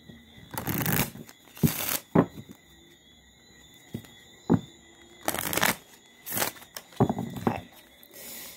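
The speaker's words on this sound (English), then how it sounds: "I'm going to give this a good shuffle." Several quick riffling bursts of playing cards being shuffled, close and crisp, separated by short quiet pauses.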